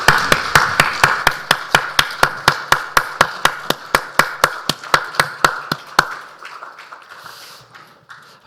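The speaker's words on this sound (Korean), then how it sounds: "하나님께 영광의 박수를 올려드리겠습니다." A church congregation at a Sunday worship service claps together in a steady, even beat, about two dozen sharp, loud claps. The clapping then stops, leaving a quiet, reverberant hall.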